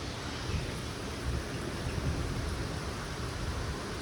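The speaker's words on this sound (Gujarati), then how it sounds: "અને વરસાદ ચાલુ હે, મસ્ત ઠંડો ઠંડો પવન આવેલો" Steady rain pours in Ahmedabad during a thunderstorm, with cool wind, giving a dense, even hiss with low rumbling underneath that stays constant throughout.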